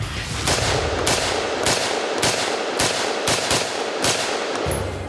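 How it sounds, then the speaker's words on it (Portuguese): Loud, close bursts of rapid automatic gunfire from an assault rifle, several volleys of quick successive shots echoing with little pause between them. "Simulando um ataque com um fuzil de assalto"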